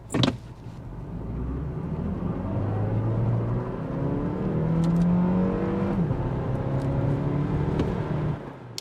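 A 2024 Dodge Hornet R/T plug-in hybrid launches hard from a standstill, its engine droning and rising steadily for several seconds with a rough, sustained roar and shifting tones, heard without voices.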